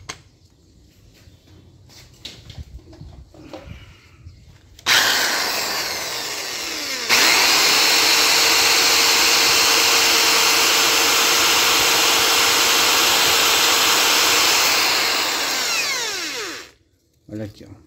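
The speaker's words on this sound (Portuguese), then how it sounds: "Eu vou fazer um lixamento aqui para tirar um pouco mais dessa irregularidade. Boto na ponta da furadeira." An electric drill spins an abrasive against a motorcycle starter motor part, a loud steady high whine lasting about ten seconds, the drill's pitch shifting mid-way, with quieter handling noises before it and a brief tail after.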